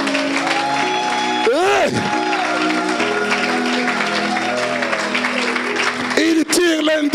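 Congregation in a church applauding and cheering with shouts, a loud sustained roar of clapping and whoops throughout, with a voice calling out over it near the end.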